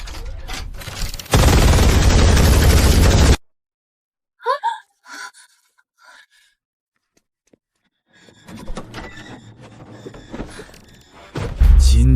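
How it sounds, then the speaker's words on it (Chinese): Mech guards open fire in a sci-fi battle: a loud, dense two-second burst of sustained gunfire, then quiet broken by sharp gasps and breaths, before a rumbling wash of noise builds again near the end. "全体机甲卫队，给我开火，"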